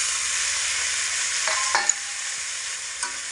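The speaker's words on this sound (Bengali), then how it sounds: "তো সমস্ত আলুগুলোকে আমি এখানে দিয়ে দিচ্ছি।" Thin-sliced potatoes go into hot spiced oil for egg-and-potato curry, giving a steady close sizzle with a few spatula scrapes and light clinks as they are stirred.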